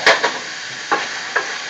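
Steak meat frying in a pan and being stirred, with a few sharp scraping strokes spaced through a steady close sizzle.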